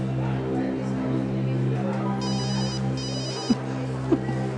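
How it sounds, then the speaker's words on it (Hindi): A telephone rings with a repeated electronic trill over a steady background hum, with a couple of short knocks near the end. "सर का फोन"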